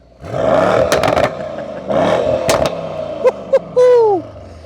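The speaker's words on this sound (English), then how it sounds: "if we give the car a rev, it sounds a bit like this" A Mercedes E63 with the M177 V8 revs up hard several times close by, a few loud rising blips followed by two short stabs and a final longer rev that falls away.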